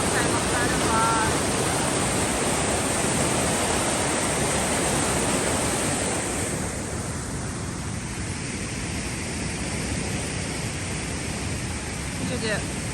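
River water rushes steadily through a nature reserve, a dense, loud broadband roar that holds constant and eases slightly partway through, with no voices over it.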